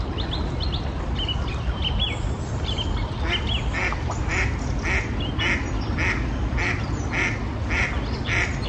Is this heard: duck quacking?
yes